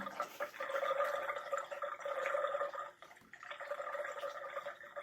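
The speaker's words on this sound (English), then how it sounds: "You can hear that drain sound." Water drains with a gurgling, trickling flow through a Seedwell seed starter tray system fed by a pump, moderately close and uninterrupted except for a short dip midway.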